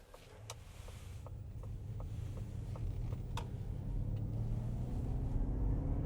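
Heard from inside, a Ford Mustang Mach-E GT Performance Edition electric car accelerates at partial throttle with a low rumble and a faint motor whine that climbs steadily in pitch, while quiet ticks and clicks sound throughout.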